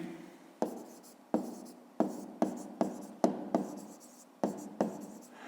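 Pen writing on paper during a Ukrainian 5th-grade maths exercise, a run of close scratchy strokes in quick bursts, each starting sharply and fading, with no talk over it.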